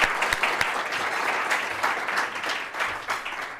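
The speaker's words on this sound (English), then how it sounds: "how about a quick round of applause for our sponsors?" An audience at an executive speaker-series event claps in a sustained round of applause for the event sponsors, a dense, steady patter of many hands filling the room for a few seconds without speech over it.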